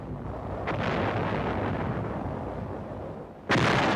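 Artillery shelling in World War II Manila, a continuous rumbling barrage with a sharp blast near the start and a loud, sudden burst of fire in the final half second.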